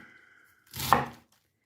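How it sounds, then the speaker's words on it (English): A knife slices through cabbage in one short burst of close, crisp cutting strokes that rise and fade after a quiet start. "you'll want to cut that pretty fine"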